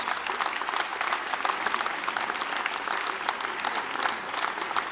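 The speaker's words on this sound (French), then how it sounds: "j'aimerais qu'on l'applaudisse également, notre police municipale qui est présente" At a municipal New Year's greetings ceremony in Courcouronnes, a hall audience gives sustained applause for the local municipal police, an even, crackling clatter of many hands.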